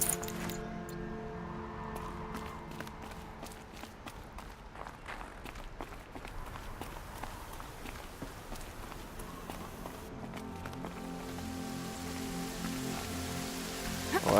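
Rain falls steadily across a Horizon Zero Dawn game scene, a dense patter of drops mixed with quick footstep-like taps, fairly soft and continuous throughout with no talking.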